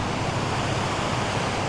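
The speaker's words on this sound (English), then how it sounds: "apart from the sound of the water" Steady broadband rush of flowing river water on the Leicestershire Round near Mountsorrel, a continuous close wash with no talking over it.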